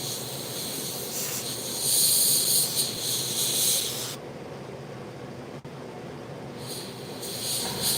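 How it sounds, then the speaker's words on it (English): An airbrush spraying paint onto a tiger model gives a steady, close hiss that keeps up for several seconds, cuts to a softer airflow, then swells again near the end. "But this airbrush is terrific."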